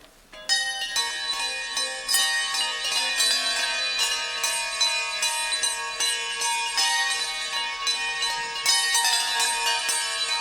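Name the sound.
church bell ringers' jingle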